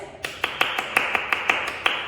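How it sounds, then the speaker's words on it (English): Hands clapping rapidly and evenly in a classroom, about a dozen sharp close claps in two seconds with a steady, slightly quickening rhythm. "when I start clapping really fast like this"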